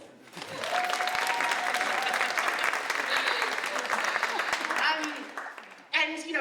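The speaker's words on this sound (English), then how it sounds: "Round of applause" Audience applause at a climate and creative-industry festival session, loud sustained clapping filling the room for several seconds before a voice cuts in near the end.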